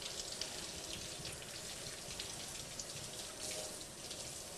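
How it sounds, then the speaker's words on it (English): Leeks rinsed under a running kitchen faucet, a steady broadband hiss of flowing water splashing into a sink, continuous and close for the whole stretch with small fluctuations as the stream hits the vegetable. "So I want to hold this under the faucet and rinse all that dirt off."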